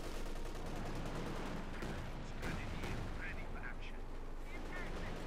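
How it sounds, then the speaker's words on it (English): Katyusha rocket artillery firing in the video game Company of Heroes 2, a dense, continuous rumble of launches and blasts with crackling bursts, loud and unbroken over a battle soundscape. "Katyusha firing again."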